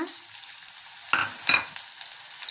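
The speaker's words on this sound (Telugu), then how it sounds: "వేడయ్యాక ఒక స్పూను ఆవాలు జీలకర్ర వేస్తున్నా అలాగే ఉల్లికాడల్లో ఆ తెల్లటి పాటను ఒక చిన్న ఉల్లిపాయ కట్ చేసి వేస్తున్నా" Mustard seeds, cumin, chopped onion and the white parts of spring onion hit hot oil in a pan for an egg and spring onion dish. Two loud bursts of sizzle flare up over a steady, close hiss of frying.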